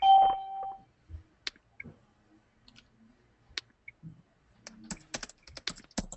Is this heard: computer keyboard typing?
yes